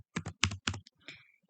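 Rapid keystrokes on a computer keyboard, a short burst of several crisp clicks in uneven rhythm followed by a softer tap, close and clear with no speech.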